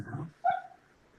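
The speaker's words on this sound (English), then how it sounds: "You hear my dog having a dream right now?" A sleeping dog dreams, giving a muffled low sound followed by a single short, high whimpering yip, faint and brief in a quiet room.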